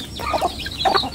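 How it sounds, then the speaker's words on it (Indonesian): Free-range village chickens cluck repeatedly at close range while pecking at scattered corn, with short clucks and soft calls bunching together over steady low farmyard background noise and no talking. "Setiap pagi, setiap petang kasih begini ayam makan jagung."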